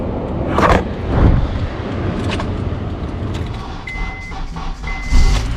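A 2003–2007 Honda Accord with a failing alternator cranks and starts, settling into a steady idle rumble, with two short electronic chimes toward the end.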